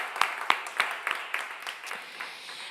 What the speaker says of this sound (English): how about one more round of applause for Kyle Keller